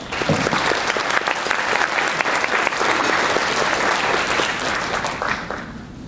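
An audience at a digital preservation conference applauds to welcome a speaker, a loud, dense, sustained burst of clapping that holds steady for several seconds before tapering slightly.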